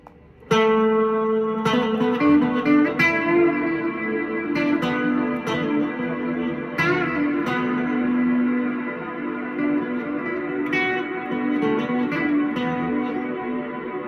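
Electric guitar through a Catalinbread Sinkhole ethereal reverb pedal with reverb maxed out and other knobs near middle: sustained plucked notes and chords swell into a long, washing, shimmering tail that blurs each attack, played steadily and fairly loud.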